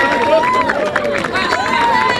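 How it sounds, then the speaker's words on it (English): A stadium crowd at a race cheers a winner, a loud, dense roar of many voices with shouts and whistles rising and falling throughout, with speech mixed in. "And the crowd join in his moment of triumph here."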